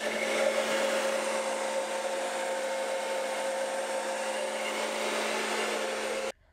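A hair dryer blows steadily on hair after a protein treatment, a loud continuous whirring hum with a strong steady tone that runs unbroken for about six seconds and then cuts off abruptly.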